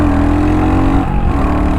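Exhaust of a Royal Enfield Hunter 350 single-cylinder motorcycle revving, a loud close thump that rises in pitch, dips briefly near the middle, then climbs again.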